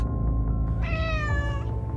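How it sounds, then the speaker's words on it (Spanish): A cat meows once, a drawn-out harmonic cry in a tower setting, heard clearly over a steady low background hum and rumble. "¿Un gato? ¿En la torre?"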